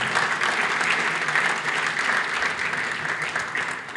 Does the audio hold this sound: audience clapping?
yes